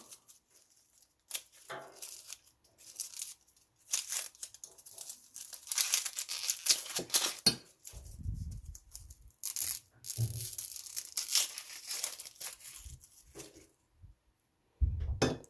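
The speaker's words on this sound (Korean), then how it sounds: "양파 까고 있어요" Dry onion skin peeled by hand in a home kitchen, crisp papery crinkling and tearing in close, uneven bursts with quiet gaps and a few soft knocks, no talking.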